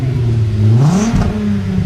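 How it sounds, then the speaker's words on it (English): A Volkswagen Mk4 with a VR6 engine fitted with a long cherry bomb muffler revs up, the exhaust note climbing and falling in a loud, close, throaty pull. "Just go ahead and give it 3 revs every time."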